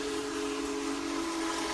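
The steam whistle of the Union Pacific Big Boy 4014, the largest steam locomotive still in service, holds one steady loud tone over a thick hiss for the whole stretch, with no voices.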